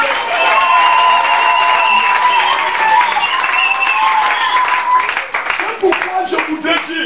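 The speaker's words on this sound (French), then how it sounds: "Donnez-lui une acclamation." An audience at a religious gathering breaks into loud, sustained applause and cheering with voices mixed in, thinning out toward the end.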